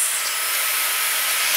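A Dyson hair dryer blows on its highest heat setting, a close, steady airy hiss and whoosh that stays even and loud for the short moment without any voices.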